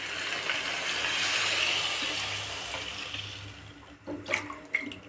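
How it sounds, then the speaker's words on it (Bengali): Water pours from a vessel into a pan of simmering country chicken curry, a close splashing gush lasting a few seconds before trailing off into light stirring clinks. "এই যে আমি জলটা দিয়ে দিলাম।"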